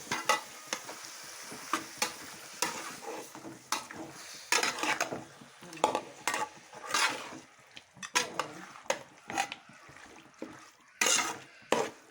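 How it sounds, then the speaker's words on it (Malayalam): Masala-coated country chicken pieces being stirred into sautéed onions in a pot: irregular close scraping and clattering strokes over a soft sizzle, with short pauses between bursts. "മസാല ചേർത്ത ചിക്കൻ പീസ് ഇട്ട് കൊടുക്കുന്നു ശേഷം നന്നായി ഇളക്കുക"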